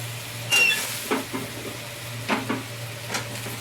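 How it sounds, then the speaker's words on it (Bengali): Cut drumstick stalks frying with turmeric for a fish curry, a steady sizzle broken by a few scraping stirs of the spatula, close and without speech. "এরপর আমি এর মধ্যে কেটে রাখা ডাঁটাগুলোকে দিয়ে দিচ্ছি"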